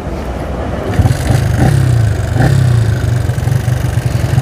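A motorcycle engine fitted with a 62 mm PWK carburetor idles roughly, then revs in a few short blips, loud and close, during tuning.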